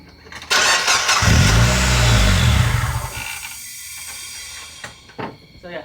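A crash-damaged Mazda Miata with no coolant cranks briefly and starts, then runs at a loud rough idle that settles lower, with a few clanks near the end.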